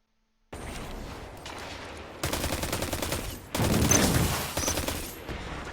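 Rapid gunfire from weapons in Destiny 2 crackles in dense bursts, loud and close, with short pauses between volleys and no talking.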